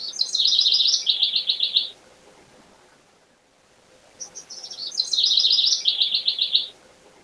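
Starlings chirp in two bursts of rapid, high chattering trills, with a quiet pause between them, heard clearly against a calm outdoor background.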